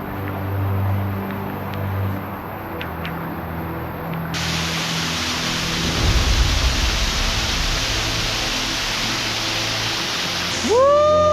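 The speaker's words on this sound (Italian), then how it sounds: "E continua a piovere" Steady rain and the rush of a waterfall at the Bolentino falls near Fluminimaggiore, Sardinia, form a constant broadband hiss, close and unbroken throughout, with a brief mechanical tone near the end.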